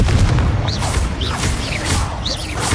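Blasting spell explosions cast in the Hogwarts Legacy video game, a dense, loud stream of booming bursts and crackling impacts with whooshing magical sweeps layered over a steady rumble.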